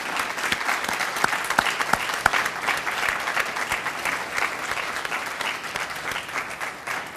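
An audience at a 2013 Veterans Day ceremony applauds veterans standing to be recognized, steady, full clapping from many hands throughout, loud and close with no speech over it.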